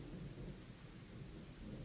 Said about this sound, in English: I love to listen to the rain.